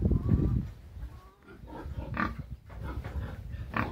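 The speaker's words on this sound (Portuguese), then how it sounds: "Essa porcona deu cria só de 4 porquinhos" Domestic pigs, including a large breeding sow, grunt on a farm near the pigsty, giving close, steady low grunts and snorts with occasional louder bursts and no talk.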